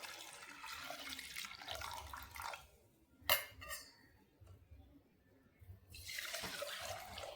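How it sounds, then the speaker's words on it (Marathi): Water is poured into a pot of pigeon pea and mung dal with a soft, rushing splash, then a sharp clink and a pause before a second stretch of pouring, quiet and close. "आता यात थोडंसं पाणी घालायचं आहे।"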